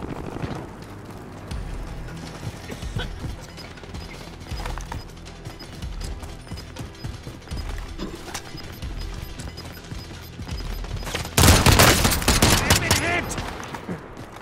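Gunfire in Call of Duty: Modern Warfare from a DMR rifle and other weapons: scattered sharp shots and bursts over game noise, with a loud, dense volley near the end and players talking over parts of it.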